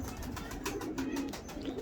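A champion pigeon, a piyazi dora from a loft, coos faintly in low soft murmurs under steady background noise, with no voices.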